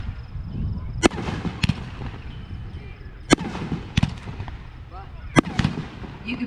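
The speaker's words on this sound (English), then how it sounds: "It's a very unique effect in consumer fireworks with the large flash cubes up in the sky." Consumer strobe fireworks with large flash cubes bursting in the night sky: scattered sharp cracks and pops at moderate distance, a few spaced bursts mixed with crackle, with people talking throughout.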